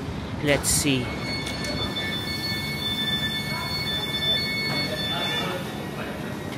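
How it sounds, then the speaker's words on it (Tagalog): A train pulls into a station in Lucerne, Switzerland, with rumbling wheels, a thin squeal and a brief high tone over continuous platform noise, while a person speaks briefly. "Guys, ito na yata yung train."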